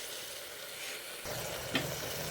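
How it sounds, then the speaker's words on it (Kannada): Mutton fries in a pan with a steady, dense sizzle that grows a little louder partway through, with one brief clink of a utensil and no voices. "ಮಟನ್ ಹಾಕ್ಬಿಟ್ಟು ಫ್ರೈ ಮಾಡ್ಕೊಳ್ಳೋಣ ಸ್ವಲ್ಪ ಚೆನ್ನಾಗಿ ನೋಡಿ ಫ್ರೈ ಆಗ್ತಾಯಿದೆ"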